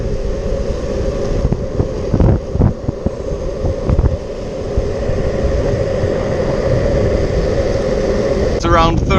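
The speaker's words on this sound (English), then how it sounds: "it is really windy right here." Strong wind roars into the microphone while riding an electric skateboard at around 34–35 km/h, a loud, constant buffeting rumble with a few gusty bumps, and a voice briefly breaks in at the end.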